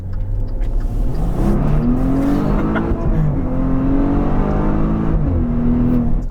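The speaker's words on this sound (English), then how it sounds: "It also sounds like a Maserati, which is even more positive." A Maserati Levante S Q4 SUV engine revs up and settles repeatedly, rising whines climbing and falling over a steady throaty rumble, loud and close.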